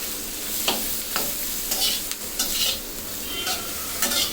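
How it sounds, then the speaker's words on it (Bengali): Shahi paneer masala is stir-fried in a pan, with a steady sizzle underneath and repeated scraping strokes of a spatula against the pan coming at a loose, regular rhythm, close and clear with no talking. "এখন এটাকেও আমি কিছুক্ষণ আরো দুই মিনিটের মতন ভুনা করে নিব"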